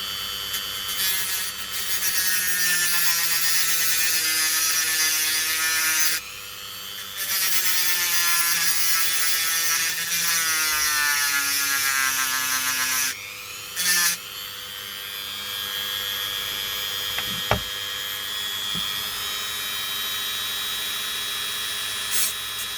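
Dremel rotary tool fitted with a small grinding disc, run very slowly, giving a buzzing whine that wavers in pitch and cuts out briefly twice before a steadier stretch.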